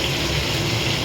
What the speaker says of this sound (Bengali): আমার মাছটা এখনও ফুটেই যাচ্ছে